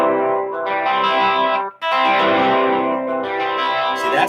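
Slow sweep-style strum across an electric guitar chord, each string's note ringing out separately and sustaining with effects-heavy tone, a brief break midway before a second slow strummed chord rings alone.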